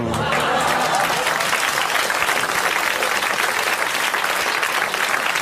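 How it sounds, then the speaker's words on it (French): A 1982 television studio audience claps in a dense, steady wave of applause that holds evenly for several seconds, with a few voices mixed in. "vous applaudissez en ce moment, comme il le mérite"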